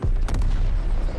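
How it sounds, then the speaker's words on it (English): A missile strikes in MW3 with a loud, close, low booming explosion. A sharp crack comes early, then a rumbling roar fills the rest. "Two, one, they're dropping a missile."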